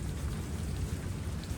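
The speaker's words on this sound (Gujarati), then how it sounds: "7:30 સમયે વરસાદ અથાવત કન્ટિન્યુ હજી શરૂ છે" Heavy evening rain pours down without pause, a close, dense, steady hiss and patter of downpour with no voices.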